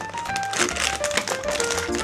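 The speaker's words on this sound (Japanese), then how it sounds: "ハサミで切れるかな、" Scissors snip through soft 3M corner guard material, producing a steady crinkling, crunching texture with background music tones running underneath.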